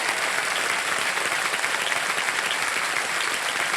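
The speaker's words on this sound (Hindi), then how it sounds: "एक बार जोरदार उनके लिए भी तालियां बज जाए" A studio audience on the KBC quiz show set claps hard and evenly, a continuous loud wall of applause throughout.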